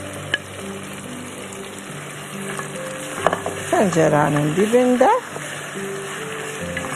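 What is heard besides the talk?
onions frying in a pot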